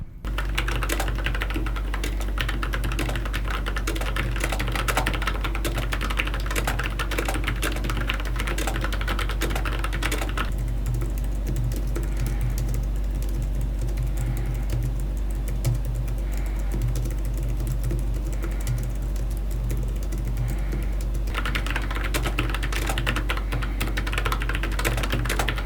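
Steady typing on a Logitech MX Mechanical wireless keyboard with tactile brown switches, a continuous close stream of fairly soft key clacks running throughout with no talking.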